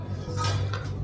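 Dishes clatter while food is covered in a home kitchen, a brief close clink of plates and utensils.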